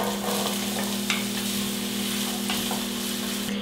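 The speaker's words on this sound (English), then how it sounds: "I have my onion sauteing in some olive oil on a medium heat" Half an onion sautés in olive oil in a pan over medium heat, a steady soft sizzle with a low constant hum beneath and a few light stirring taps.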